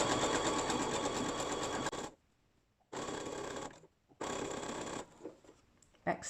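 A sewing machine back stitching a bra cup runs in three loud, close bursts, a long one and then two shorter ones, with quiet gaps between them.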